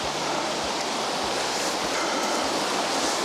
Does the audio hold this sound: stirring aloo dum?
no